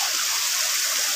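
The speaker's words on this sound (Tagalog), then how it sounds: "nasa ilog naman ako. Maliligo dito." River water rushes steadily in a countryside setting, a loud, continuous broadband wash close by with no voices over it.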